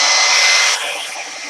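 Heat tool blowing over a canvas to dry Mod Podge, a loud close-up whooshing roar of hot air that drops in level partway through the short burst.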